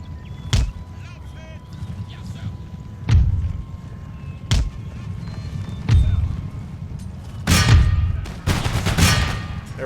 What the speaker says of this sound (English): I'm gonna go ahead and shoot them